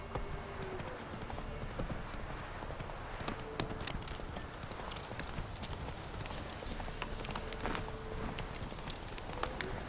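Horse galloping in The Witcher 3, a fast continuous clip-clop of hooves on ground under game ambience with an occasional voice.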